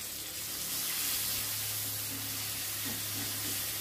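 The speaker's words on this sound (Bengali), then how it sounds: "টমেটোটা ভালো করে ফ্রাই করো যতক্ষণে টমেটোটা একেবারে নরম হয়ে আসছে" Small native tomatoes fry in a pan for a vegetarian chana dal and jackfruit dish, giving a steady, close, continuous sizzling hiss with no talking.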